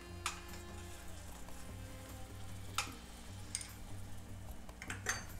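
Tomato puree sizzling as it goes into frying onion and spice masala in oil, a faint steady fry with a few sharp clinks of a spoon against the pan.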